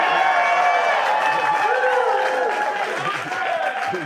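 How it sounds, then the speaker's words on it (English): Audience applause and crowd noise at a comedy show rumble steadily throughout, with a voice talking over the clapping and cheering. "extra pause for applause"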